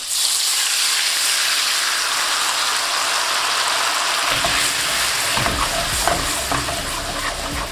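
Butter and leftover stock sizzle in a hot pan that just cooked lamb chops, a bright, crackling fry that swells louder and busier midway as the liquid hits the fat, continuing without pause.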